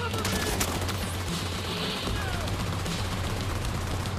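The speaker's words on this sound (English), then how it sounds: "now keep shooting the big one" Rapid gunfire from shooting an enemy in The Division 2 video game, a dense continuous barrage of loud shots that fills the whole stretch with game noise.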